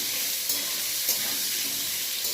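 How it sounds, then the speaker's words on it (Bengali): Pointed gourd fries in oil with turmeric and salt, giving a steady, dense sizzle close by, with a couple of faint clinks and no talking. "হলুদ নুন দিয়ে পটলগুলোকে তারপর ভেজে নেব আমি।"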